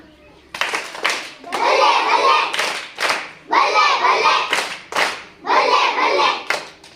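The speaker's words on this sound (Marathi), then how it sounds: "रॅकेट टाळी का बल्ले बल्ले टाळी?" Children in a Marathi classroom language-game session perform a rhythmic group 'balle balle' clap, with loud bursts of clapping and shouting voices repeating in about four even cycles, close and energetic.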